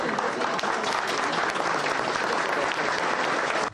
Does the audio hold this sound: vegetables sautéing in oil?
no